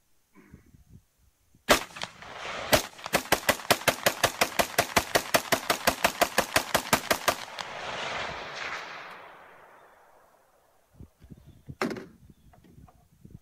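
Rifle fitted with an aftermarket Geissele trigger and fed from a P mag, firing a rapid string of roughly twenty-five loud, evenly spaced shots that end abruptly, followed by a ringing tail and a couple of later isolated bangs.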